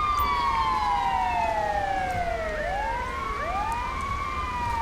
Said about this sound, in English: I said you can turn off your sirens.